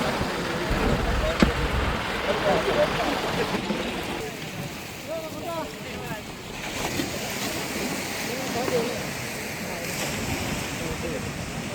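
A motor boat droning at high speed across the open sea, with wind buffeting the microphone and waves splashing; a voice talks over it at times.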